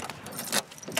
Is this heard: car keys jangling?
yes